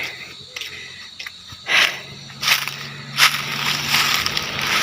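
A person breathes hard after climbing uphill on a walking route in Bohol, with loud, close gasping breaths in uneven bursts over a rustling outdoor background.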